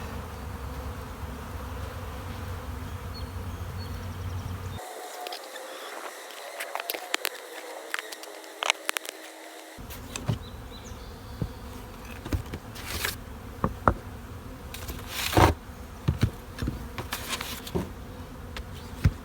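Honey bees buzzing steadily around a two-story hive colony, a dense continuous drone close by with individual bees flitting past and a brief muffled gap midway.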